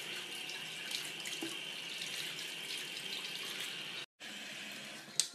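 Tap water runs steadily into a sink while wavy hair is washed, a constant hiss of flowing water with a brief cut near the end and a small clunk after it, with no voices.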